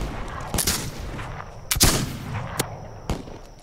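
Gunfire in a video game set around hunting cavalry camps: several sharp, loud shots spaced irregularly over a few seconds, with crackling reverb trailing each blast and no voices.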